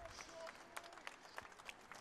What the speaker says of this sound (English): Crowd giving Tobias a well-earned round of applause